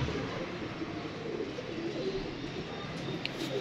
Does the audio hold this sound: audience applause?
no